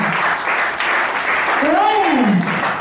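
A church congregation applauds and cheers during a Thursday worship service, a continuous wash of clapping beneath a voice and loud voices calling out.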